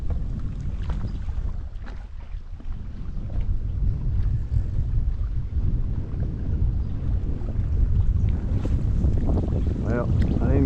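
Wind gusting on a fishing pier by the water, a steady loud rumbling buffet across the microphone throughout, with brief voices at moments.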